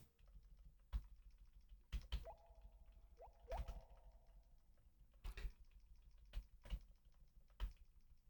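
Computer keyboard keys tapped in scattered, irregular single strokes and small clusters, close and faint against a quiet background with soft game tones.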